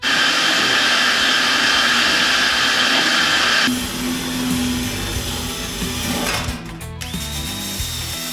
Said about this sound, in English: I'm just going to stick the shop vac inside there, clean it out real good